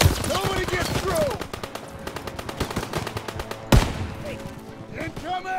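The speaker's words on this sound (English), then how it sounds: "Open fire! Somebody get on the MG!" Sustained rapid machine gun bursts and gunfire in Call of Duty WWII, loud and dense throughout, with a sharp heavy shot near the end and shouted voices mixed in.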